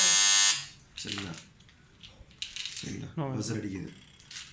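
The timer buzzer on a Samsung semi-automatic washing machine sounds one short, loud, shrill tone, followed by someone speaking nearby.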